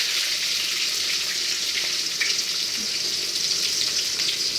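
Onions fry in hot oil with popped mustard seeds, giving a loud, steady, close-up sizzle that hisses without pause throughout.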